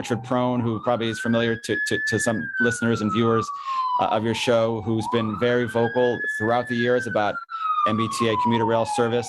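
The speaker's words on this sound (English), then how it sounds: "I don't know if you can hear that siren going off in the background" A wailing siren sounds outside the State House in Boston, two long rising-and-falling sweeps plainly audible beneath someone speaking close to the microphone.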